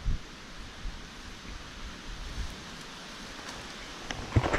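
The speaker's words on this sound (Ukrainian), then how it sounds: "Вже і вітер так піднявся," Steady wind rushing outdoors with broadband gusty noise and buffeting on the microphone, fairly loud and continuous throughout.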